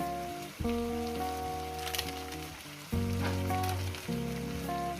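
Mutton and potato curry fries in a pan with garam masala, giving a steady soft sizzle and patter beneath prominent background music.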